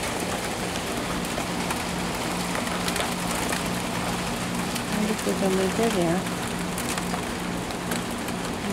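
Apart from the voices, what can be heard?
rain falling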